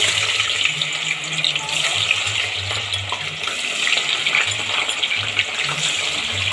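Potato pieces deep frying in a pan of hot oil, a steady dense sizzle and hiss throughout, close and loud, with a faint low hum underneath.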